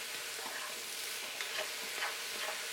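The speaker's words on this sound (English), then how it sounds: "It has oil, so all you need to do is just to stir it, stir it, stir it." Okra frying in oil, stirred in the pan: steady, bright sizzling throughout with soft scraping strokes of the spoon every so often, near and even.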